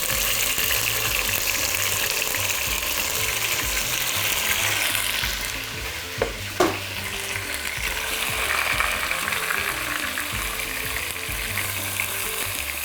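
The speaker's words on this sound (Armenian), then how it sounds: "Սկսում ենք միսը տապակել," Beef ribs fry in a pan with a loud, continuous sizzle and crackle that stays steady throughout, with a couple of brief clatters midway.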